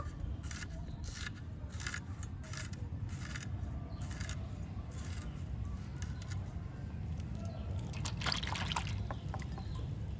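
Young red telakucha (ivy gourd) fruit pieces are cut one by one and dropped into a bowl of water, giving soft repeated splashes and trickles over a steady background hum, with a busier burst of sloshing near the end.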